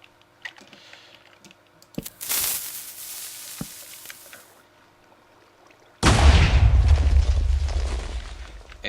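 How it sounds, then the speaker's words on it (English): A TNT explosion in the video game Minecraft, a sudden loud deep blast that rumbles and slowly fades over several seconds, preceded by scattered clicks and a smaller hissing burst. "It's a very big and powerful explosion."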